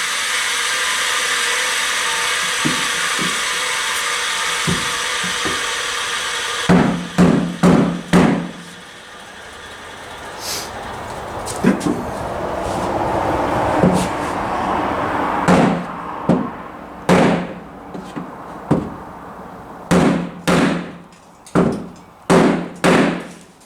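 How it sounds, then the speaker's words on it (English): A rubber mallet thumps repeatedly on a 1995 Vert's car body panelling, dull heavy blows in irregular bursts, after a stretch of loud steady whirring at the start. "I'm just using a rubber hammer."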